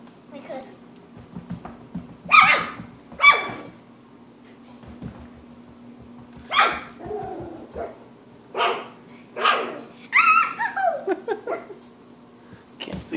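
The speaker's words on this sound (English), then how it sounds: "do your kicking thing and make him bark" A small wire fox terrier barks in sharp, scattered bursts, several yaps spaced a second or two apart, close by, with quiet thumps between them.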